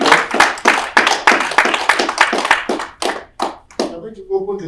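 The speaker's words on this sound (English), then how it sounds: "Let's clap for Jesus" A church congregation claps together in a steady, brisk rhythm, the sharp hand claps loud and close, thinning out toward the end with a few scattered claps.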